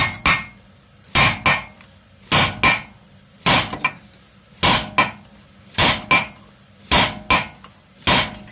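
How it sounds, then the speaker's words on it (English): Sharp metallic strikes of a copper hammer on a Honda Jazz gearbox part in quick pairs, repeated at a steady rhythm, ringing close and loud with quiet gaps between blows. "So use a copper hammer to make sure"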